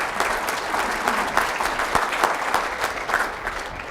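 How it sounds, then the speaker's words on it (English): Sustained audience applause at a university robotics event, welcoming a panelist to the stage: dense, steady clapping from a sizeable crowd, fairly close and even in loudness, with no talk over it. "let's applaud for him"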